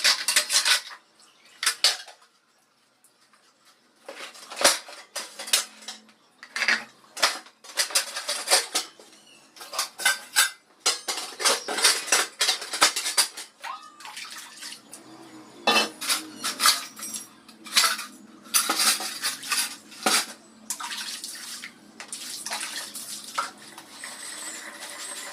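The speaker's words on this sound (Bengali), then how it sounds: "আর এই যে থালা বাসনগুলো মেজে নিয়ে একবার ধুয়েও নিয়েছি, তারপরে আবার দেখো বালতির ভিতরে, এই যে জলের ভিতরে দিয়ে দিচ্ছি" Washed plates, pots and utensils dropped and shuffled into a bucket of water, irregular bursts of metallic clanks, clinks and splashes up close, broken by short pauses.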